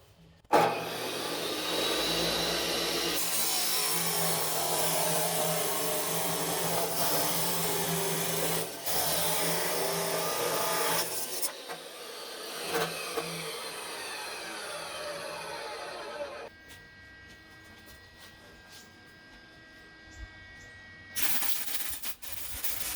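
A spinning saw blade cuts through a metal piece clamped by a coupler, a loud continuous grinding whine for about fifteen seconds, then a quieter tail with a brief burst near the end.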